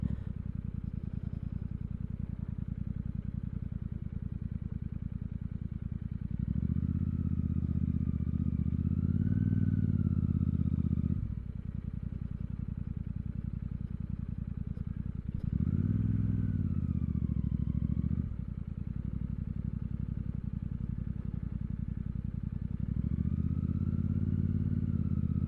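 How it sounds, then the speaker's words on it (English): A Royal Enfield Super Meteor 650 motorcycle engine idling with a low rumble, revved up several times in long surges that rise and settle back, heard close up. "I'm only revving the bike just to try and demonstrate to you how it sounds"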